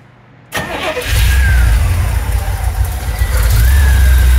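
A 1969 Corvette coupe with a 350 V8 fires up cold after sitting over two hours: a quiet lull, then a loud crank-and-catch followed by a deep, rough, steady idle with rising whine.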